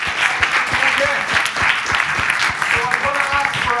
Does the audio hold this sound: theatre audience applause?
yes